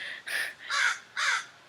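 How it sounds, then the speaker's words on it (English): A crow caws three times in a steady rhythm, each call harsh and fairly close, with quiet in between. "A crow just landed above me."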